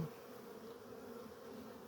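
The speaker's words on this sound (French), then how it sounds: "Voilà, les abeilles elles rentrent" A steady, faint drone of many honeybees buzzing close together at the hive entrance around 7 pm, returning with pollen, continuous and even, with no voices.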